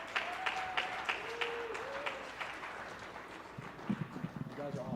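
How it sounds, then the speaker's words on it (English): Audience applause at a Dr. Martin Luther King Jr. celebration, a steady patter of clapping from a crowd with a whistle-like tone and voices mixed in, fading toward the end as talk begins. "So big round of applause for them"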